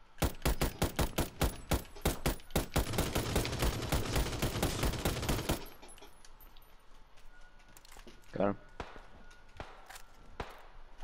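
Gunfire in PUBG: a fast, loud run of rapid automatic shots for about five seconds, then scattered single shots and a short burst, farther off and quieter.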